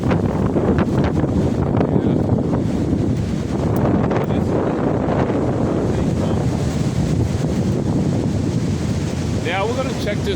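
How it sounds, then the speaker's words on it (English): Strong gusting wind roars and buffets against a staked tent shelter outdoors in extreme weather, loud and constant throughout, with a faint flapping near the end and no clear speech. "the wind blowing it, yeah. Hitting it from the west now."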